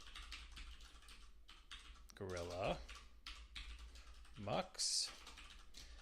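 A command is typed on a computer keyboard as a quick run of soft, close key clicks, followed by someone talking in a quiet room.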